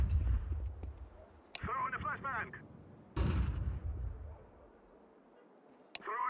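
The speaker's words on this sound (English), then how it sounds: "Throw in the flashbang." Sharp bangs burst out in a Counter-Strike 2 competitive match, two or three loud impacts with game noise between them, while a player talks over part of it.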